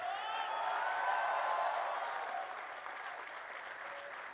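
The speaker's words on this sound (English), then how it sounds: "let us give a big round of applause to your family and loved ones" A graduating class at the IMT Nagpur convocation ceremony applauds their families in a large hall: sustained, even clapping from a big audience that continues throughout, easing slightly toward the end.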